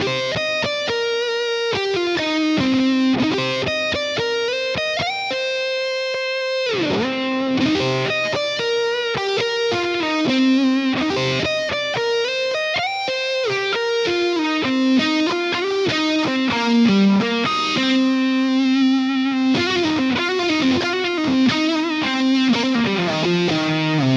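High-gain electric guitar run through a DemonFX OTA phaser into a Fractal FM3 rectifier amp model, playing sustained distorted riffs and lead lines with a swirling, sweeping phase shimmer and cavernous reverb, loud and continuous.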